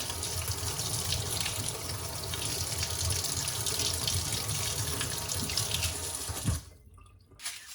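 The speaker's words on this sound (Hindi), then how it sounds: "फिर इसको पानी के नीचे करके ना इसको अच्छी तरह वॉश कर लें।" Tap water runs steadily into a kitchen sink while garlic is washed under it, a loud continuous splashing that stops abruptly near the end.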